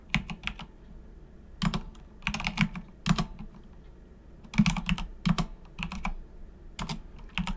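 Someone types a wallet recovery phrase on a computer keyboard, with irregular bursts of crisp key clicks close up. Brief pauses break up the quiet, steady typing.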